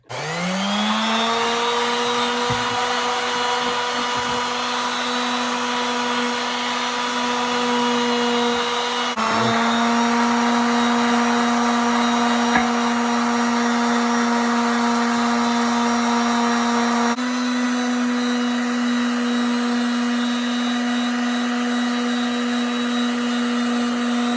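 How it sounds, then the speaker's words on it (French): A small power sander runs steadily on a frame, with a high, even whine and buzzing hum, continuous and close, with slight shifts in pitch. "Et on va utiliser la petite ponceuse."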